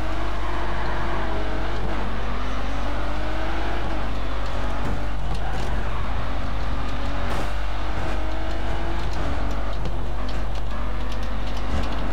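Several car engines drone and rev continuously with a constant low rumble in the racing game Grid 2, including Aston Martin One-77s, pitches rising and shifting as cars accelerate around, loud and unbroken throughout.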